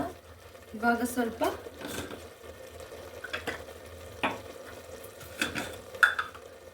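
Tomato puree sautéing in a pan, with a soft sizzle and intermittent scraping stirs under a voice speaking throughout.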